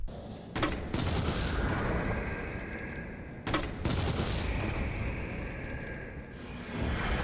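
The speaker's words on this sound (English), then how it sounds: "Alright, so 2 explosive rounds to take down a Hunter Gamma" Explosive rounds fired at a Hunter Gamma in Resident Evil 3 Remake: two sharp, loud blasts a few seconds apart, each followed by rumbling, ringing aftermath.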